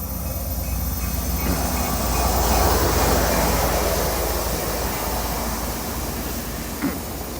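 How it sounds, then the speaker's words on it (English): A train passes beside a hotel, a broad steady rumble and hiss that swells and then slowly fades, with no voices over it. "there's a train next door too here"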